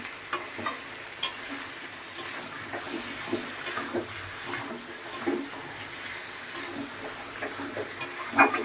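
A meat curry in a pan with water just added to make a thin gravy, stirred with a utensil: a soft bubbling simmer under scattered scraping and clacking strokes, fairly quiet and without talk.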